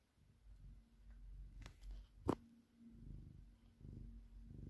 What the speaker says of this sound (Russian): А, так ты мурлычешь уже.